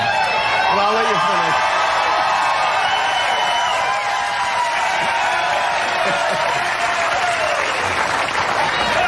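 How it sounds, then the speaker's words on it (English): A talk-show studio audience keeps up sustained, loud applause with cheering, a dense continuous wash of clapping from start to finish, with voices briefly audible over it. "They're still cheering."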